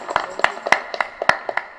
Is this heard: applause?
yes